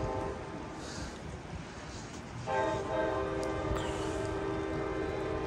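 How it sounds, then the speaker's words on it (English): An Amtrak Capital Corridor cab car sounds its horn while the train passes through Oakland's Jack London Square on a rainy day. The loud, sustained horn blast begins partway through, over the rumble of the passing train. "You can hear that cab car horn going by."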